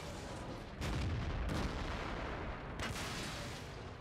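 Artillery fires in the World of Tanks video game: a couple of heavy booming shots with rumbling tails over continuous battle noise, nearby and fairly loud, with no talking.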